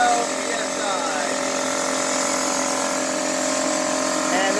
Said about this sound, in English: what we have here is a busted, brand new Craftsman air compressor